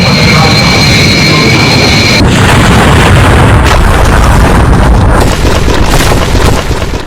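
Loud crash and explosion from an animated airliner slamming into a building just after takeoff, a sustained roaring, rumbling blast filling the whole stretch with dense low-end debris noise and no talking.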